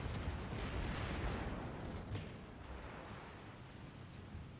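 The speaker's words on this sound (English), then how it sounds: "they're literally shooting at me from all fucking sides" Enemy ships firing artillery in World of Warships, a steady rumbling barrage of booming shots and distant blasts that runs throughout with no talking.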